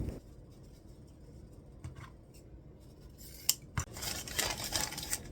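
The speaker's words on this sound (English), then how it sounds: "So what you do is just fold it on itself and cut it aslant." Scissors cut through ribbon at an angle, shown as a few crisp snips and a sliding rasp of the blades near and clear in a quiet room.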